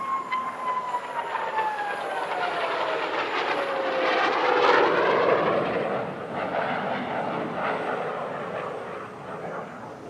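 Fursan al Emarat aerobatic jets in a seven-aircraft display at the Dubai Airshow, a roaring jet pass swelling to a loud peak with a descending whine, then fading into distant rumble.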